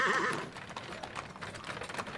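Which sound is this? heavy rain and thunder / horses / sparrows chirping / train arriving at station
horses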